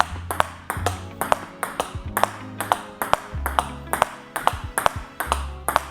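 Table tennis ball struck repeatedly with a racket carrying Quantum X Pro Soft rubber on the backhand, a steady rally of crisp close pings about two per second, each followed by a bounce on the table.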